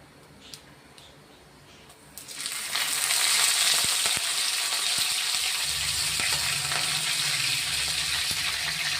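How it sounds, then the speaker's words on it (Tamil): Loud, steady sizzling of mustard seeds tempering in hot oil for a dried fish sambal, rising suddenly after a quiet start and crackling continuously to the end. "கடுகு கொஞ்சம் தாளிக்கிட்டோம்."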